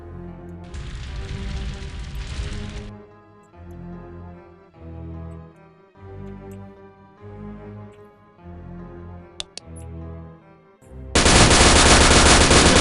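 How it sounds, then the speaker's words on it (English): Submachine gun fire in the shooter game Blood II comes in loud, rapid bursts separated by short pauses, ending with a sustained, louder, harsher blast of gunfire. "Submachine gun."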